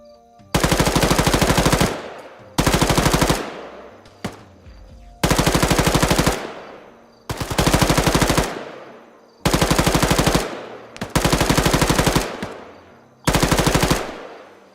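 Long bursts of automatic machine gun fire in ARMA 3, seven sustained loud volleys separated by short pauses, each burst a rapid rattling stream of shots with echoing tails, no talk.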